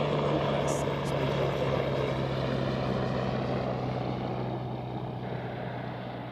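An aircraft makes a low pass over Zurich Airport on a foggy day, its engine drone steady and fairly distant, slowly fading as it moves away.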